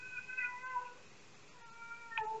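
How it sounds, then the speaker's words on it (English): A cat makes an odd, drawn-out meowing noise, a wavering tonal cry that rises and falls over a couple of seconds. A short, sharper meow follows near the end, fairly faint and close, with no talking. "My cat is over here doing something. I don't know why he's making that strange noise."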